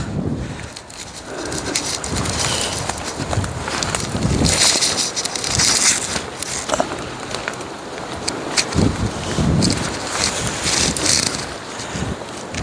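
Strong gusting wind buffets the microphone outdoors on a blustery walk, a loud continuous rumble and roar that surges and eases throughout, with no talk over it.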